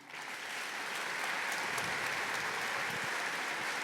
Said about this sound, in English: Please give him a very warm applause, Matt Eisenman.